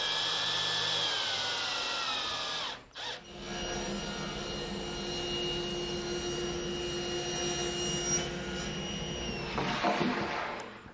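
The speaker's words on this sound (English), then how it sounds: "we can go ahead and drive the screws in to our fixed portion" A power drill drives screws into the fixed portion of a fold-down wooden outfeed table, giving a steady, close motor whine with a brief dip near the start before running on continuously.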